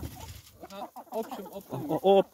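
Lohmann Brown hens and roosters at a poultry sale, a flock of about forty-five birds giving short, overlapping clucks and calls close by, mixed with a person talking.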